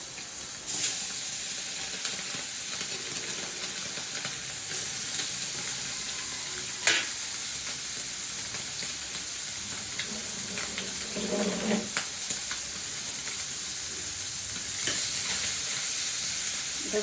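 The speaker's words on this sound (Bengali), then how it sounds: "শাক ভাজি করতে তো সময় লাগবে না খুবই তাড়াতাড়ি হয়ে যাবে" Kalai shak, a leafy green, frying in a hot kadai, giving a long steady sizzle and hiss with occasional scrapes and taps of stirring.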